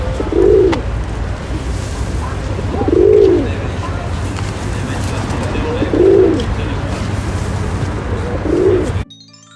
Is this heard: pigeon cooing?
yes